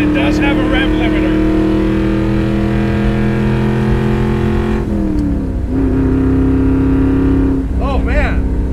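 A 1967 Ford Fairlane engine revs hard at full throttle in first gear, a loud close-up roar that climbs and holds, drops briefly, then surges again against the rev limiter.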